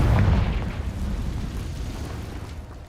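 A Confringo explosion spell goes off in Hogwarts Legacy: a deep, rumbling blast that hits hard at first, then rolls and fades over about three seconds, with no voices over it.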